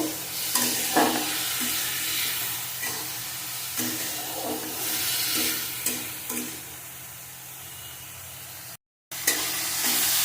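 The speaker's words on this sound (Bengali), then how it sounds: "ভালো করে নাড়িয়ে নেব" Green tomato and potato are stirred in a frying pan, with soft repeated scraping strokes over a low continuous sizzle, close and alone without voices.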